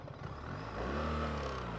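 BMW GS motorcycle engine on a test ride, a brief engine drone that rises in pitch as it revs up and holds steady, heard at moderate level with no talking.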